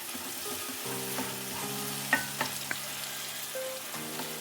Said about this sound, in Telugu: ఇప్పుడు ఉల్లిపాయలు మగ్గినాయేమో చూపిస్తాం. ఇంకా కొద్దిగా మెత్తపడాలి.